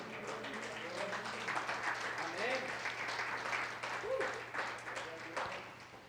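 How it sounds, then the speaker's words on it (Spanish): A church congregation applauding during a service, steady clapping from many people with voices faintly underneath and a low hum in the room. "¿Cuántos pueden darle un aplauso a Cristo en esta hora?"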